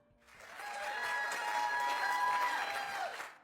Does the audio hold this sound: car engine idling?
no